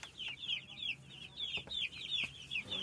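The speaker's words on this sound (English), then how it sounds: "But you can hear them if you get closer. You're going to start to hear that chirping." Baby chicks chirping under heat lamps in a brood of about seventy birds, a rapid, repeated high-pitched peeping chorus heard fairly close but quiet.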